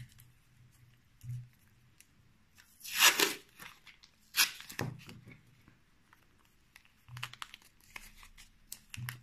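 Paper tape is torn and pressed tightly around a handmade Spiderman toy figure's body, giving a few sharp crinkling rips and rustles between quiet pauses, close up with no talking.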